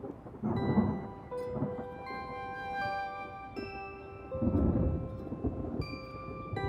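Steady rain falls with low rumbling thunder rolling through it, heard together with soft musical tones.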